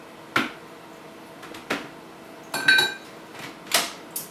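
A spatula scrapes the sides of a grinder bowl packed with gluten-free gingerbread cookie dough, giving a handful of short, close clicks and scrapes spaced a second or so apart, with no voices.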